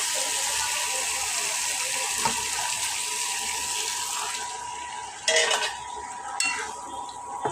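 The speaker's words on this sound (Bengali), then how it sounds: "একটু পানি দিয়ে দিলাম" Water poured into a frying pan of egg curry cooked with cumin paste, garam masala, coriander, turmeric and chilli, a steady wet gush and sizzle with a few sharper splashes and a utensil clink near the end.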